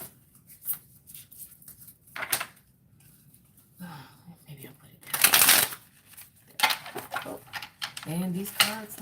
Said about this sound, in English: And these cards don't want to shuffle.